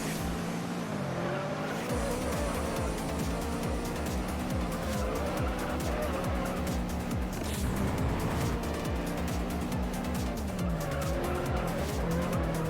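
A Honda CRX race car in a racing video game: a loud, sustained engine drone rising and shifting through gears, with long tire squeals and skids layered over it, continuous and close throughout.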